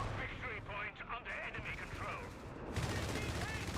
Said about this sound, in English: nice strafing run from Jaeger to pin those foot guards